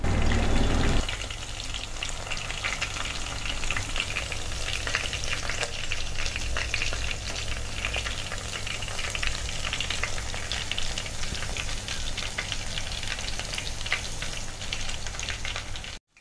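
Chicken kondattam pieces sizzle and crackle steadily as they fry in hot oil in a pan, a dense, close frying hiss that continues without pause and with no talking.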